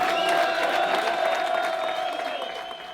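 Loud, steady audience applause with some cheering at a French firefighter battalion event, a dense crowd clapping continuously for about three seconds and fading slightly toward the end.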